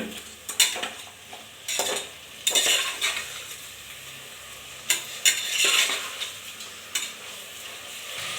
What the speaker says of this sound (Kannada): ಉಪ್ಪು ರುಚಿಗೆ ತಕ್ಕಷ್ಟು, ಶುಂಠಿ ಬೆಳ್ಳುಳ್ಳಿ ಪೇಸ್ಟು ಚೆನ್ನಾಗಿ ಕಲಿಸ್ಕೊಡಿ.